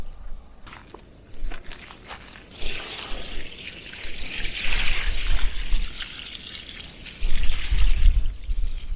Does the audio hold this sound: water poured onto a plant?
yes